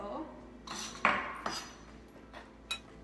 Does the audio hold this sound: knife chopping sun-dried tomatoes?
yes